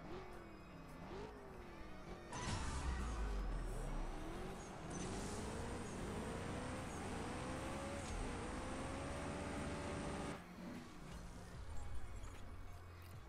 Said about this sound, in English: I don't mind getting the sounds of the game and the engines going on